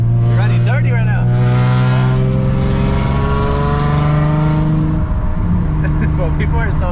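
A loud, unregistered Nissan 350Z with a VQ engine drones in a steady, strong tone as it drives, its pitch rising and falling while revving, close and dominant with talk over it.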